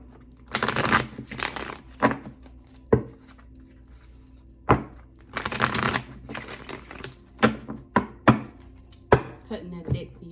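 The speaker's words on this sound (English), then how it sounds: "2 more shuffles." Close, crisp riffling and slapping as a deck of tarot cards is shuffled and cut, in quick bursts separated by sharper single taps.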